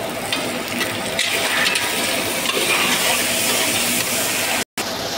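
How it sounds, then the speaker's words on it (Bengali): Chopped onion frying with curry leaves in a cooking pot, giving a steady, dense broadband sizzle that stays loud and even throughout, with a brief silent break near the end. "তো পেঁয়াজটা একটু ভুনে নেবো।"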